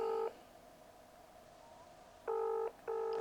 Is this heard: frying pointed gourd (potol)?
no